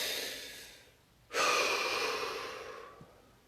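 A person draws a slow, deep breath in a quiet room. The inhale fades out, and after a short pause a stronger, louder exhale follows and gradually tapers off.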